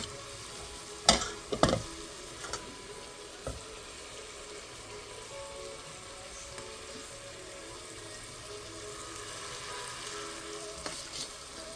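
Rice being fried in butter in a saucepan, a quiet continuous sizzle with a few sharp clinks and knocks of a utensil near the start, then steady low frying alone.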